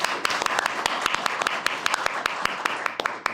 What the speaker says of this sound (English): I'll give you a round of applause